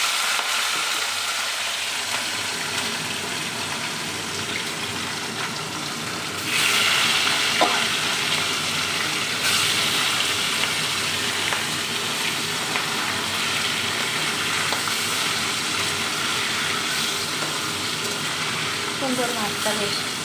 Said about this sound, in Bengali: মাছটা কিন্তু ভেজে নিই একে একে।